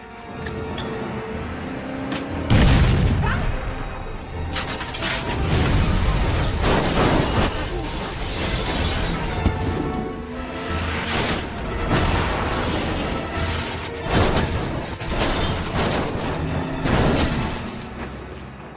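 A film action scene erupts in a bomb blast, with loud booming bursts and rumbling debris surging repeatedly across a dense, chaotic soundtrack.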